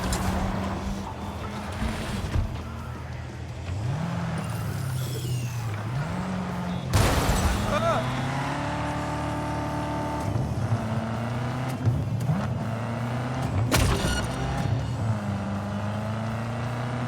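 A car drives in Cyberpunk 2077, its engine note rising and falling through gear shifts and accelerations, with sharp bursts of impact noise along the way over about seventeen seconds.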